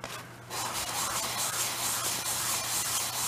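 Dry hand sanding with 1200-grit sandpaper in a shop, a steady close rasping rub that starts after a brief pause and keeps going evenly with no voices.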